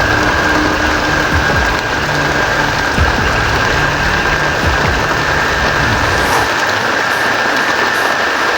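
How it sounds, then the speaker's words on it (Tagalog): Steady, dense rain hissing continuously and close by, with a faint low rumble underneath and no talking. "Habang naghihintay po na mawawala yung ulan po"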